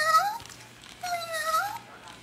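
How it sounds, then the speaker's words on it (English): A cat meows twice in drawn-out, rising-and-falling calls, fairly close and clear over a faint steady hum, with a short pause between the cries. "You meowing, aren't you?"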